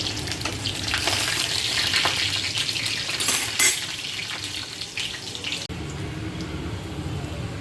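Garlic frying in hot oil in a pan after mustard seeds, a dense continuous sizzle close up with brief crackling spikes, then settling to a steadier hiss.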